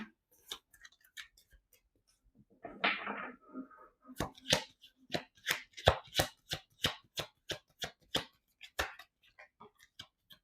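Tarot cards are cut and handled during a reading: a soft shuffling swish, then a run of about a dozen crisp, evenly spaced snaps and taps of cards close by, with no talk.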